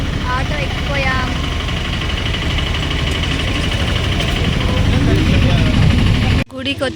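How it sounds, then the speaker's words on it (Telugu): An auto rickshaw engine runs steadily throughout, a continuous rumbling drone on a rainy ride to a temple, with voices chattering over it before a sudden cut near the end. "ఆటో ఎక్కిపోయాం"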